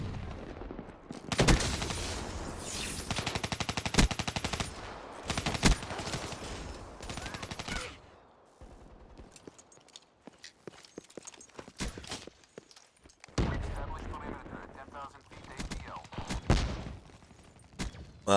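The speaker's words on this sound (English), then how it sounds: "As you can see, sentry gun is doing its job." A sentry gun in a capture-the-flag match of a video game fires bursts of rapid gunfire, loud and dense in the opening seconds, then sporadic shots and softer action sounds follow with another burst near the end.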